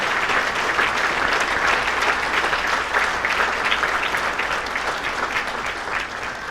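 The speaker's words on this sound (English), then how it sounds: "A round of applause, please, for Coach Peter Sullivan on his induction into the Woburn Hall of Fame." A crowd at a Woburn Hall of Fame induction ceremony applauds a coach, thick continuous clapping that stays full and even throughout before easing slightly at the end.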